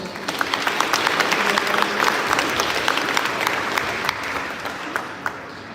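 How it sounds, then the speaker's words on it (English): An audience at a live culinary talk in Valencia applauds the head chef, with sustained, even clapping from a large crowd that stays loud throughout and tapers only slightly at the close. "Please give him a great applause."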